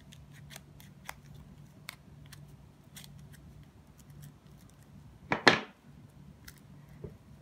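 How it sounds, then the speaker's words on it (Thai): Metal scissors are slid firmly along the crease of a folded paper banknote, making one short, close scraping swipe. Quieter ticks and light handling noises come before and after it. "ทีนี้เราก็ใช้กรรไกรรูดเลยก็ได้ค่ะ"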